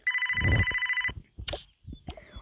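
An outgoing phone call rings with a steady electronic ringback tone that lasts about a second, loud and close. Softer clicks and handling noises follow in near silence.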